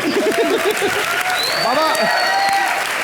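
A television comedy show audience applauds loudly, a dense, continuous roar of clapping mixed with voices speaking and calling out over it.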